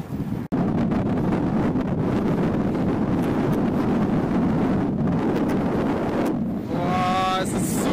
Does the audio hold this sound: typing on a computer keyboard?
no